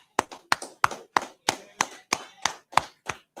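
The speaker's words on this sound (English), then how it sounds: "Hey, clap it up." Group of people clapping in a steady, even rhythm, about three claps per second, sharp and close, with no talking.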